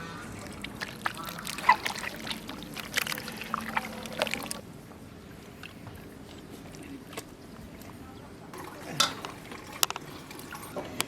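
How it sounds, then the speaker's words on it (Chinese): Beef intestines being rubbed and washed by hand with salt, starch and white vinegar in a kitchen basin, giving wet squelching and sloshing bursts that pause midway, then resume with clinks. "加一点盐，淀粉、白醋，往进洗一下。"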